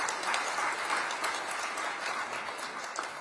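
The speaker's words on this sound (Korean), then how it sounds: "다시 한번 큰 박수 부탁드립니다" Dense, sustained applause from an audience at a formal economic meeting honouring five business association leaders, even in level and somewhat distant.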